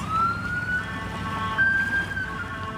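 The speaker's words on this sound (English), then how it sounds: "It's an ambulance." An ambulance siren wails steadily at a distance, its tone gliding slowly up and holding high, with a low rumble of traffic underneath.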